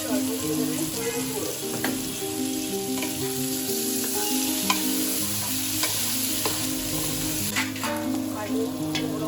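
Continuous sizzle of potatoes and slit green chilies frying in hot oil with a steady hiss, occasional soft clicks and a low hum underneath; no talking.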